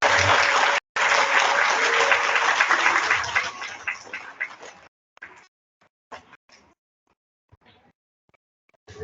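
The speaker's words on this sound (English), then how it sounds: "how about a big round of applause for our nearly perfect attendance?" Elementary school assembly crowd clapping loudly for nearly perfect attendance, a brief break and then a full burst that fades into a few scattered, trailing claps and near silence.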